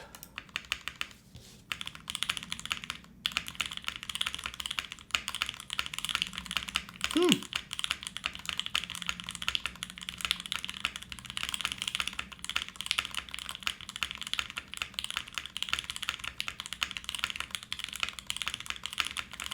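Continuous fast typing on a mechanical keyboard with lubed switches, dense clacking keystrokes close up with a few heavier thocks mixed in, steady throughout.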